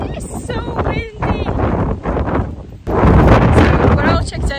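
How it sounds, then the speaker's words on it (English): Strong wind gusts at a marina buffet the microphone with loud, rumbling roar that swells and surges throughout, with brief voices and other noises mixed in. "It is so windy."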